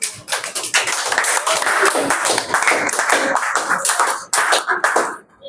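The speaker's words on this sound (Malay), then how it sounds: "Beri tepukan." Pupils in a classroom applaud, a brisk burst of many hands clapping close by that continues for several seconds, then fades with a short pause and a few final claps.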